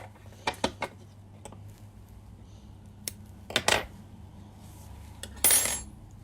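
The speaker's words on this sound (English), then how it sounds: "Now cut this yarn." Crochet yarn is snipped with scissors after a slip stitch, giving a few quiet, sharp clicks and snips scattered over a low steady background hum, with a brief rustle near the end.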